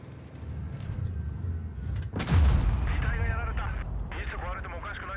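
A heavy Type 57 tank cannon blast in World of Tanks Blitz booms out mid-clip, followed by rumbling echoes and mechanical whine, with game-like explosive noise and voices in the background.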